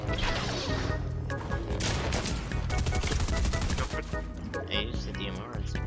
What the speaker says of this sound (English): It's the same team that's sniping at us.